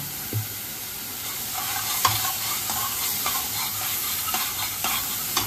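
Turmeric is stirred into ginger-garlic paste frying in a pan for mustard chicken, a steady close sizzle with repeated spoon scrapes and a few sharp metallic taps.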